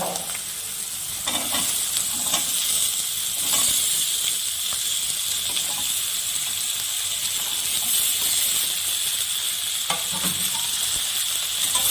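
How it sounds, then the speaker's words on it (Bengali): Cut potatoes hit hot mustard oil and fry in a loud, continuous close sizzle, with occasional scraping stirs and no talking. "কেটে রাখা আলুগুলো দিয়ে দিব।"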